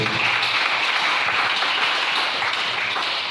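Church congregation applauding together, a steady, even burst of many hands clapping at close range for a few seconds.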